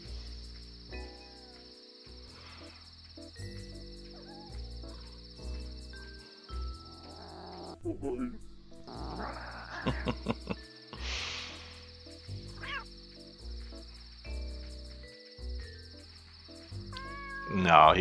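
Cartoon cats meow in the video game Dave the Diver, a few short mews and purrs scattered over a looping, plucky game soundtrack, with a soft chirping ambience.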